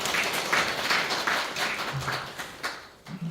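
A church congregation applauds during a Sunday worship service, a soft, even wash of many hands clapping heard from across the room, fading slightly toward the end.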